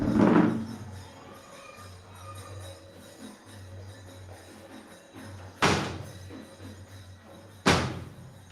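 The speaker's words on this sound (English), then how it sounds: "I'm gonna shut the door." A door is shut indoors with a sharp thump at the start, then two more solid slams a couple of seconds apart over a quiet background hum.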